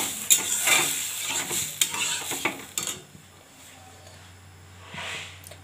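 Boiled dal being tempered and stirred in a pan, with close scraping stirs, clinks of a utensil against metal and a light sizzle for the first few seconds, then a quieter low hiss.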